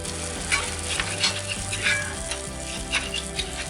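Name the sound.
butter boiling on a griddle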